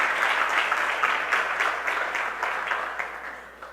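A church congregation breaks into applause, a broad continuous clatter of many clapping hands that gradually fades over a few seconds, with no voices over it.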